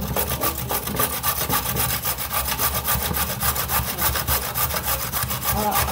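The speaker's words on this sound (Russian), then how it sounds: "Я не буду всю морковь тереть, но. Я ее подержу на терке." A carrot is rubbed briskly against a hand grater in a home kitchen, producing a continuous rapid rasping scrape at an even rhythm, close and steady, with no voices.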